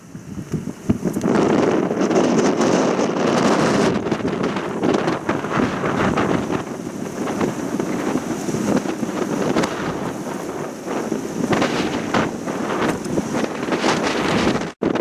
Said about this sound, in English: We're having gusts up to 28 knots in this anchorage